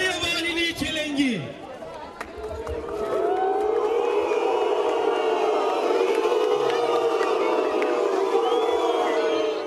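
A crowd gathered at an outdoor wreath-laying ceremony in Antalya booing and jeering in a sustained, loud wave of voices, following an early burst of shouting, with chatter mixed in.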